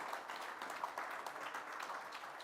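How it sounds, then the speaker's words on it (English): Faint applause from the audience at a municipal finance conference panel in Chicago, a soft, continuous patter of clapping heard from a distance with no speech. "Big round of applause for everybody."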